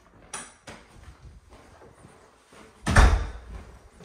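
A door opens inside a three-bedroom Seattle rental house: a light click early on, then quiet, then a louder thud with a brief rattle near the end. No one speaks.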